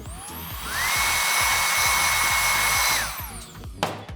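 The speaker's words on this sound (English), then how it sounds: "I'm gonna take my blow dryer, blow dry down this dropout, and then I'm gonna hold it nice and close" A handheld blow dryer drying hair in a salon, a loud steady whirring blast that swells as it nears and fades as it pulls away, with faint brushing and a click near the end.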